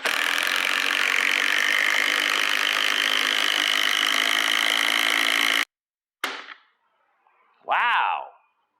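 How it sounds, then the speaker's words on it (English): A Masterforce impact driver on its highest setting drives a lag screw with a loud, steady mechanical roar for over five seconds, then stops abruptly, followed by a short knock and a brief voice. "We're going to put it on its highest setting for driving lags."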